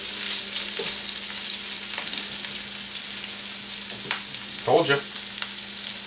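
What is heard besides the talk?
beef sizzling and being stirred in a frying pan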